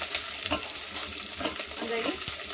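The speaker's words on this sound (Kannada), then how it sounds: "ಈರುಳ್ಳಿ ಜೋಡಿನೇ ಮೆಣಸಿನ್ಕಾಯಿ ಹಾಕೊಂಡಿರ್ತೀನಿ ಇದನ್ನು ನೀಟಾಗಿ ಫ್ರೈ ಮಾಡ್ಕೊಂಡು" Onions and green chillies fry in oil with a continuous close sizzle, broken by scraping and clinking stirring sounds at an uneven rhythm.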